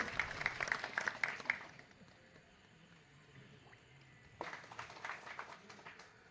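Applause from a crowd at a Congress candidate's office inauguration in Sathra taluka: faint, distant clapping swells and fades, pauses into a low murmur, then rises again in a second ragged burst.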